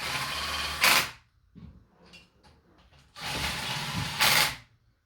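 Two bursts of ratcheting on cylinder head bolts of a supercharged 392 Hemi fitted with MMX ported heads, each a steady mechanical clicking run ending in a brief louder snap, separated by a quieter gap of small tool clatter.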